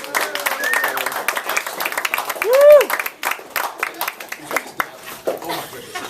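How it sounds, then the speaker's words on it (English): A crowd at a Miami Heat broadcast event claps and cheers amid loud, busy room noise, with scattered individual claps, a brief whistle-like tone in the middle and voices mixed in. "You give them a round of applause."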